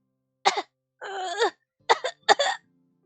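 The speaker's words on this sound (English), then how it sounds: "he heard a coughing fit from a nearby room" A short coughing fit in the video game Virche Evermore: four raspy, voiced coughs and throat-clearing bursts in quick succession, close and fairly loud, with no talking.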